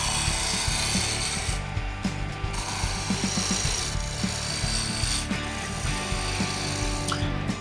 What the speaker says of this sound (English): To rough down this piece of wood, I used a spindle roughing gouge